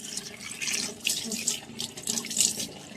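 Tap water runs steadily into a sink during washing outdoors, a continuous splashing flow with small surges, fairly close and alone without talk.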